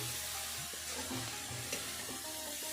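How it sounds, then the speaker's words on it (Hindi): Peas and grated carrots fry in a pan with a soft, even sizzle and faint stirring, fairly quiet and unbroken. "और अब सब्जियों को हम फ्राई करेंगे।"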